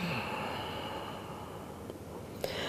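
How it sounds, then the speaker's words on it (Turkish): A slow yoga exhale through the mouth, a long steady breath of air released close by, with a faint click near the end and no talking. "Nefes alırken, verirken özellikle nefesi duymaya çalış."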